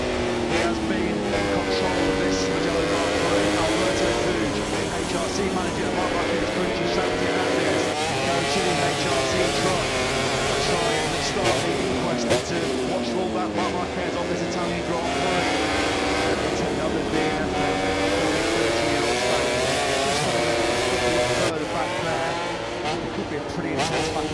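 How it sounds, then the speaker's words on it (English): MotoGP racing motorcycles at the Mugello Italian Grand Prix, their engines a continuous loud, high-pitched howl running through the whole stretch beneath constant race commentary. "the only motorcycle that Pecco Bagnaia has caught a glimpse of was Jack Miller on that run down the first corner"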